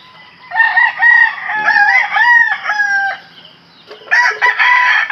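A rooster crows loudly nearby, a long wavering call followed by a second crow starting after a short pause.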